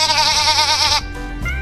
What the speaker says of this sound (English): Yes, it's a sheep.